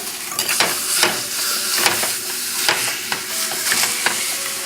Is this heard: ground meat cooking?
yes